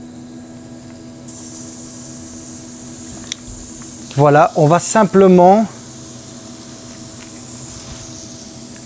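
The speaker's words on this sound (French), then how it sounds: "Le grill est chaud. Écoutez bien ce bruit, c'est magnifique." Meat sears on a hot grill with a steady close sizzle and hiss running throughout, while someone speaks French briefly over it.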